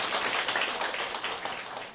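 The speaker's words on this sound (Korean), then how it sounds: "빠른 성공하시라고 큰 박수 한번 부탁드리겠습니다" Audience applause at a Korean company Monday assembly, a steady broadband wash of clapping lasting the whole moment with no distinct voices over it.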